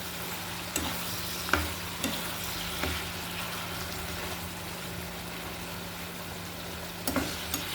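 Small fish and malabar spinach sizzle steadily in a pan, with a few sharp scrapes and knocks of stirring at irregular intervals over a low hum.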